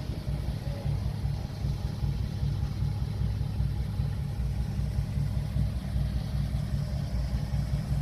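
A custom-built car from a custom shop idles steadily with a low, even engine rumble that holds throughout, close and continuous, with no talk over it.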